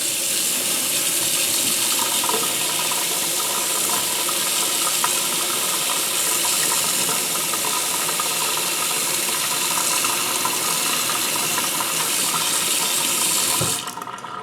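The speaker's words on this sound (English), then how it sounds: "turn on your hot water and just let it run until it gets as hot as it gets for your house" Hot water running steadily from a household tap, a loud, close, continuous hiss and rush of flowing water that holds even for the whole stretch before cutting off abruptly near the end.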